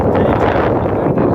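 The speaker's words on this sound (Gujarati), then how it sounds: "પૂરેપૂરો વાયરો આવે" Strong wind buffets the microphone outdoors at night during a pilgrimage walk on foot, producing a loud, constant rumbling roar with no break.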